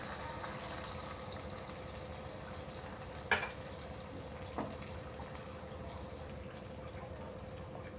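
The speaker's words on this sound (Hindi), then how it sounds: "फिर हम डालेंगे इसमें 1 बाउल पानी।" Tomatoes cooking in a pan with salt give a steady, moderate sizzle after a bowl of water is poured in, with two brief sharper splashes or clinks breaking through the constant frying hiss.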